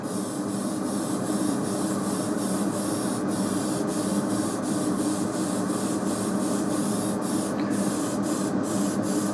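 An airbrush sprays paint over a stencil laid on a skull with a continuous close hiss. Short sharp bursts of spray sound in a loose rhythm throughout, and nobody speaks.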